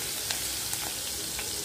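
Garlic-ginger paste fries in hot oil with mustard seeds in a cooking pot, making a constant close sizzle with a few faint ticks and pops scattered through it.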